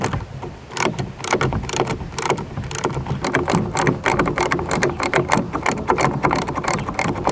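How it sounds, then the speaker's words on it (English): Bolts being tightened on a Riversmith fly rod roof rack with hand tools, a busy run of close, rapid ratcheting clicks and mechanical clatter continuing steadily throughout, with no talking. "Just gotta tighten the bolts down."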